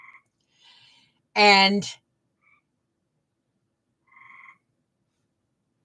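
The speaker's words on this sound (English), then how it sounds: "These are gray tree frogs." Gray tree frogs giving a short, loud trilled call close by, with fainter calls before and after amid near silence, and a voice speaking briefly.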